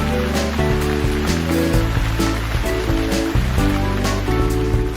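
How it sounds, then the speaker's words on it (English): Water poured from a can onto young vegetable plants on a farm, a steady broadband splashing rush that runs throughout under loud background music. "let's take the water and let's give them some water."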